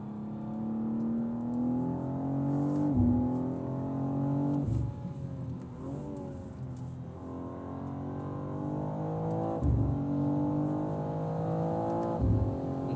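A 2023 BMW M2 lapping a race track, its engine droning steadily with rising and falling pitch through shifts and brief lifts, loud and close throughout with no talking.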